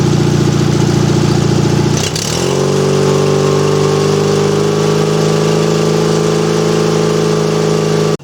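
A riding mower engine with a dual-circuit charging system roars loudly and close, then climbs to wide open throttle and holds a steady high-pitched drone until cutting off at the end.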